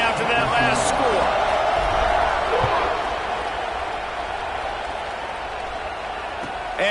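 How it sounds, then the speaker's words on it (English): Broad, steady crowd roar filling a college football stadium at Iowa at Penn State, loud and continuous for several seconds, easing slightly toward the end with a commentator's voice over it. "this crowd is buzzing after that last score"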